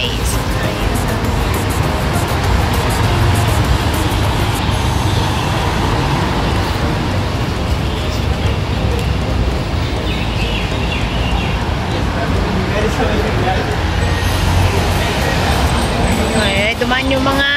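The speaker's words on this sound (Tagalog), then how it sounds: "Matraffic din dito eh." Loud, dense street traffic at night, a continuous roar of passing vehicles with crowd babble and voices mixed in throughout.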